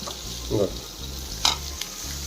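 Close-up sizzling of onions and tomatoes frying in a pan, a continuous hiss with a couple of brief stirring clinks.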